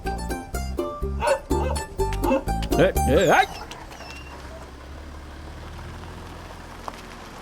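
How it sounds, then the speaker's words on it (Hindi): Dogs bark in a film scene, a rapid run of loud, close, rhythmic barks over about three seconds, then quiet background ambience. "कुत्ते ऐसे ही भौंकते रहेंगे, तुम डरो मत।"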